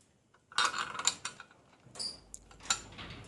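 An LS1-style valve spring compressor worked on an LS 5.3 engine, giving a few close metallic clicks, scrapes and ratcheting clanks in short bursts with quiet gaps.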